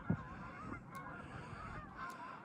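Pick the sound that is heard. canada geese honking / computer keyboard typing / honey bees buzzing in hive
canada geese honking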